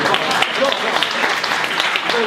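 Lecture audience clapping, a dense, even patter of many hands at moderate loudness that holds for a couple of seconds without clear breaks.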